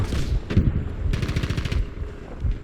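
Rapid automatic gunfire from a gun in Battlefield V, a fast clattering burst of shots at close range, preceded by a couple of heavier single bangs and ending in scattered rumble.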